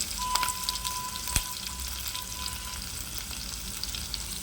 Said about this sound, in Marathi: त्यानंतर त्यामध्ये मी शेंगदाणे, कढीपत्ता व मिरची पण ॲड केली आहे. आता आपण मिश्रण ढवळून घेऊयात.